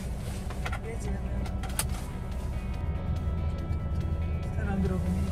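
A Volvo car drives along an old road, its engine and tyre noise a steady close rumble from inside the cabin, with a few clicks and light rattles and people talking over it.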